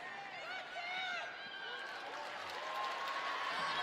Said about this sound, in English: Nice crowd here this evening at Memorial Stadium